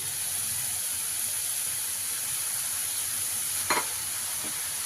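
Chicken sizzles in a pan with chili flakes and salt over a lowered flame, a steady close hiss with one brief clatter of stirring near the end and no speech.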